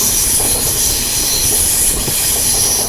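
The AP Express runs along the track through a ghat section, giving a loud, close, continuous roar of wheels on rails with a steady high hiss and faint squeal, no voices.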